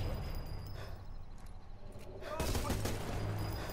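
Gunfire in the video game Sniper Elite 4 crackles in a rough burst of shots, then swells into a louder, denser volley partway through, with speech mixed in over the game sounds.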